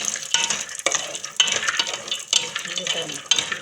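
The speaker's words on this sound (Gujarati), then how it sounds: "આપણે આ બદામ થોડીક શેકી લઈશું હરવારા કાજુ પણ નાખી દઈશું" Almonds and cashews roasting dry in a pan, heard as repeated rattling bursts as the nuts are stirred and tossed against the metal, close and fairly loud.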